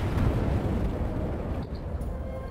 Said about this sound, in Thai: จะระเบิดปืนใหญ่เว้ย